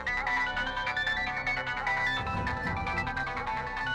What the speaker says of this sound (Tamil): ஐயோ, நம்ம போன் சத்தம் மாதிரி கேக்குது.